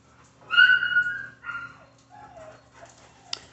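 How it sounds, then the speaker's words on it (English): Playful puppies at a dog rescue kennel, chewing on bones and hooves: a couple of close, high whimpering yips and short squeals in quick succession, followed by softer whines and a small sharp knock, no talking. "So, happy puppies."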